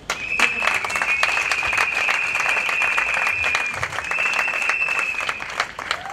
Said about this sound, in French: S'il y a les femmes du MDECO, veuillez applaudir